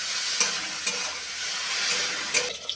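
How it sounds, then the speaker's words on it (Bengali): Kharkol leaves fry with salt and black cumin in a pan, a steady close sizzle with occasional stirring scrapes and clinks, no voices. "হালকা লাল করে ভেজে নেব।"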